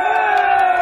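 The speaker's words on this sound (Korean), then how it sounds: "다 같이 함성 한번 질러봅시다" Crowd at an outdoor song festival celebration in Seongnam shouting together in one sustained loud collective roar, brief and close.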